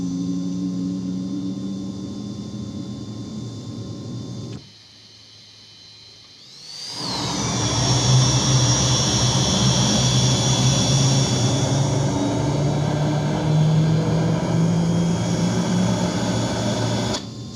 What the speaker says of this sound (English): Let's go for another engine start.